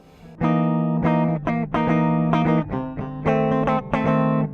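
Bass guitar played clean with no pedal, plucking dissonant sharp 9 chords in short rhythmic stabs with sustained, ringing tones and brief gaps between, close and clear.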